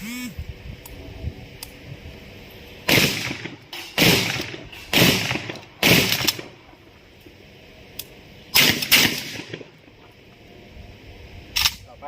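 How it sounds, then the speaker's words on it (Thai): Several loud, sharp shotgun blasts from a Khan Arms A-Tac Duo System shotgun fired in pump-action mode, spaced irregularly, with quieter handling clicks and noise between the shots. "เดี๋ยวเราจะลองยิงแบบ ตามแอคชั่นก่อน"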